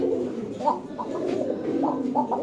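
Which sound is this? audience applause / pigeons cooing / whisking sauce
pigeons cooing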